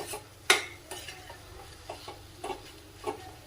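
A spoon scrapes and stirs grated carrot halwa in a hot pan, several distinct scraping strokes over a soft continuous sizzle, with one sharp knock near the start.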